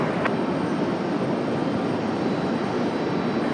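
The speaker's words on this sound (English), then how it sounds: "Little exec jet touching down here." Small executive jet touching down on runway 32 at Raleigh-Durham International Airport, heard as a steady, loud broadband engine roar with rushing noise that holds constant throughout, with no voices over it.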